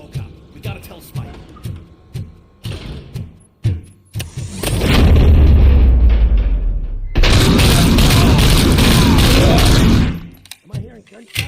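Brief spoken phrases give way to a long, loud roar of rapid gunfire and blasts in the video game RoboCop: Rogue City that fills several seconds before cutting off.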